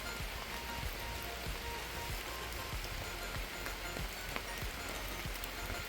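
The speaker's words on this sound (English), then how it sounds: "And it's raining." Steady rain patters on surfaces all around, with scattered individual drops ticking through a constant hiss.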